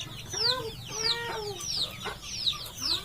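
A native country mother hen clucks repeatedly in soft, rhythmic bursts, mixed with high chirps from newly hatched chicks, heard close by over a faint low background hum.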